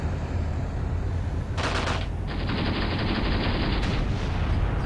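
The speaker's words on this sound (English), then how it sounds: "Still have a lot of units firing at this location." Units firing guns in Graviteam Tactics: bursts of rapid automatic fire over a constant low battlefield rumble, with one short burst followed by a longer sustained stream.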